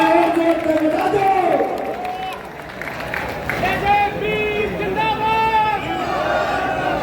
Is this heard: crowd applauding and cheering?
yes